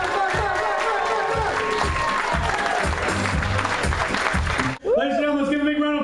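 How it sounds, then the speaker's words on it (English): An audience claps and cheers for a comedian, loud sustained applause with crowd whoops, a host's voice calling over it and a brief break near the end before the noise returns. "Ladies and gentlemen, let's give a big round of applause for Mr."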